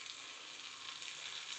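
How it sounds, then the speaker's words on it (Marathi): Guar bean pods deep frying in hot oil in a traditional kadhai on a gas stove, a steady, soft, continuous sizzle with no talking. "आपण आता त्याला डीप फ्राय करून घेऊया."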